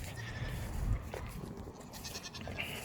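Nigerian goats on a farm bleat faintly in the distance, a couple of short wavering calls over steady outdoor background noise, with no talk.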